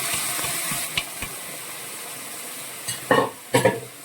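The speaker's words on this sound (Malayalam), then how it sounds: "അപ്പം അതിലേക്ക് നമുക്ക് നമ്മൾ വേവിച്ച് വെച്ചിരിക്കുന്ന എല്ല് അങ്ങോട്ട് ഇട്ട് കൊടുക്കാം" Cooked beef bones tipped into a pan of sizzling masala for bone curry, with a few soft scrapes and two loud stirring clatters near the end over a steady low sizzle.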